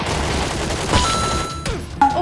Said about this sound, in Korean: 이거 팀팔팔에서 쏘는 거니까